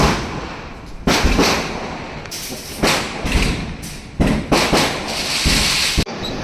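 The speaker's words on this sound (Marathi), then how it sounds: "फटाक्यांचा आवाज येत असं" Firecrackers burst during Lakshmi Puja, a series of loud thuds and bangs at irregular intervals with crackling between them, some close and some farther off.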